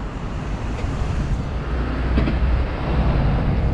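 The flooded Ślęza river rushes through Oporowski Wood in Wrocław, a steady broad roar of fast water mixed with wind buffeting the microphone.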